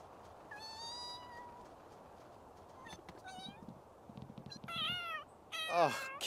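A cat meows several times in The Sims 3, soft game meows rising to louder ones near the end, heard under a quiet background while a person talks faintly.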